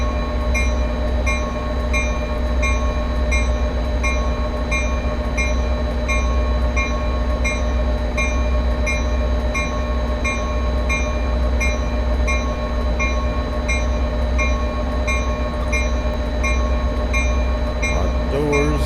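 A continuous low rumble of a train in motion in Train Sim World, with steady mechanical humming tones and occasional faint squeals, loud and unbroken throughout.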